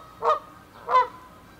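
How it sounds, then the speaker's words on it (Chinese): A large goose near a parked RV in the California mountains gives two loud, nasal honks about half a second apart, close by and alone against near-silence. "大鹅，然后要在我们这儿孵蛋了"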